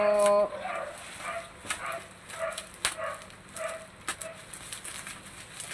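A dog barks in short, repeated yaps somewhere in the background, fairly faint and a little distant, over a steady low hum.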